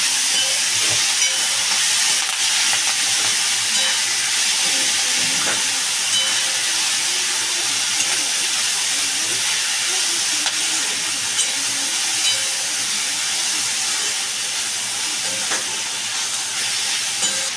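Taro (alkul) leaves stir-fried in a pan for a Marathi vegetable dish with dried shrimp, giving a steady loud hiss and sizzle that holds evenly throughout, with no talking.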